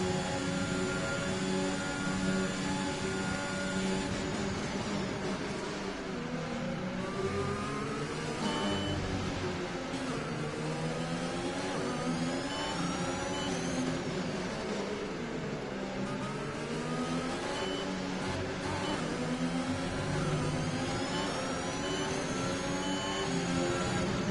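A Formula 1 race car in the F1 2021 game, driven around the hairpin at Sochi Autodrom, holds a steady, continuous engine whine with shifting pitch and no talking over it.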